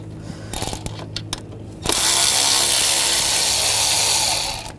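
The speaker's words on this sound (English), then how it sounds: "Use a T30 socket." A hand ratchet with a T30 socket loosening a bracket screw in the engine bay of a 2009-2017 Volkswagen Tiguan, a few hesitant clicks and then a steady, loud, continuous ratcheting whir close up, with no talking.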